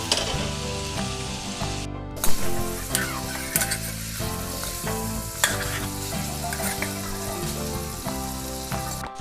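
Pork with masala fries in a pan with a loud, continuous sizzle and rhythmic scraping stirs, accompanied throughout by prominent background music.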